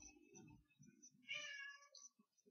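A cat meows indoors with a drawn-out, rising and falling cry after a few low sounds, faint and close in an otherwise quiet room.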